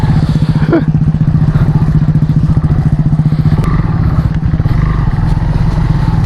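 A motorcycle grinds along a rough, broken road on a touring ride to Ujung Genteng, Sukabumi, its engine throbbing loud and close with rattling clatter and thumps, while a voice talks over it.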